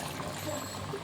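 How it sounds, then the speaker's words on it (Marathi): Hot water from a jug pours into a pressure cooker of chicken curry, a soft, steady trickling stream lasting about a second at low volume. "आता ह्याच्यामध्ये मम्मी तांब्या भरून गरम पाणी केलं होतं ते सोडते."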